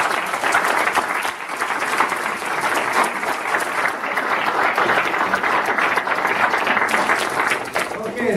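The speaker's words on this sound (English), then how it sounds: "I'd like to give you a round of applause for them." Audience at a village trustee candidate forum applauding the candidates at the close of the event, sustained even clapping across the room with some voices mixed in beneath it.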